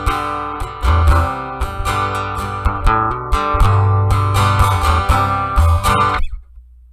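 Acoustic guitar heard through its built-in piezo pickup, strummed and picked in a steady, close, fairly loud passage of chords with clear string attacks, ringing out briefly before stopping abruptly.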